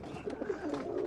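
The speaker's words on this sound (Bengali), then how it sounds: "এগুলাও অনেক বড় সাইজের রেসার কবুতর" Large racer pigeons cooing close by, a soft low rolling coo repeated in short throaty bursts with a faint background hum, no talking.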